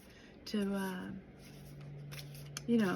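A deck of cards being side-shuffled by hand, a soft riffling rustle that runs through a short stretch while a voice talks over it.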